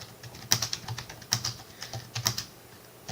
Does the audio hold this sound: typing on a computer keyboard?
yes